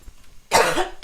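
Two quick coughs, close and fairly loud, the first longer and rougher, the second short, after a brief quiet moment.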